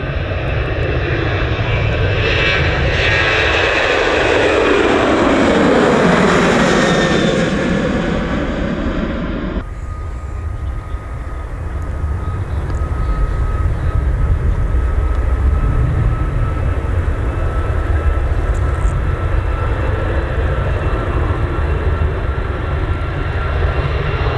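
A passenger airliner departs Manchester Airport close by, its engines roaring loud and broadband with a rising, then falling pitch sweep as it passes, then settling into a steady distant rumble.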